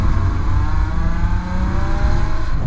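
A Nissan 350Z engine revs steadily with a muted, subdued stock exhaust note, droning continuously without pause.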